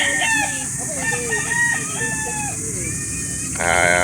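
Chickens cluck and a rooster crows loudly nearby at a livestock market in Calauan, Laguna, with a busy hubbub of birds for sale and faint background noise.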